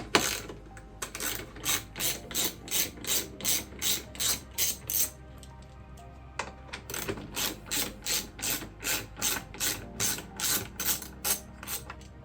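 A ratchet clicks in steady rapid bursts as it backs out two 10 mm bolts holding the rear light on a 2019+ fifth-generation Toyota RAV4 XA50. The repeated ratcheting is close and clear, with a short pause partway through.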